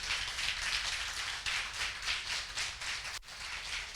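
Congregation clapping for the Lord during a Spanish-language church service, a steady broad wash of many hands applauding together at moderate distance with no talk over it.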